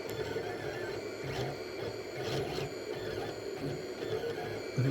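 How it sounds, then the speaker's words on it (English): A Monoprice 3D printer works on a batch of small items, giving a steady close whirring hum with stepper-motor whines and brief rising tones as the head moves, continuous and without speech. "make sure that the MONOPRICE printer can capture the detail of these small items"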